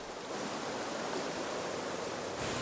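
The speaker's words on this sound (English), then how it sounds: "The Marmore Falls, one of the highest waterfalls in Europe, attracts visitors from all over the world." Marmore Falls on the Velino stream in Umbria, Italy, dropping 165 meters, gives a steady, broadband roar of falling water, constant and even throughout, heard alone without voices.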